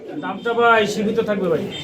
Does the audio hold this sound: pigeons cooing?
yes